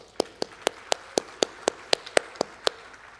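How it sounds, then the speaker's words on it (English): About a dozen crisp, evenly spaced claps come from one nearby pair of hands, with no crowd swell, as a small show of applause during a city address. "So a little applause."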